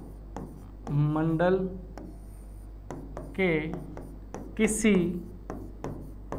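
Marker or chalk scratching on a board in short, quick strokes between phrases of a man lecturing, with the writing clicks and rubs sitting faintly under and around his speech.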